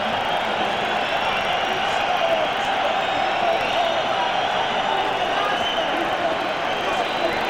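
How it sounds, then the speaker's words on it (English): Steady roar of a boxing arena crowd during a professional bout, a dense continuous wash of many voices with occasional swells of cheering, heard alone throughout without clear single voices on top. "There's certainly a lot of noise going on around the arena."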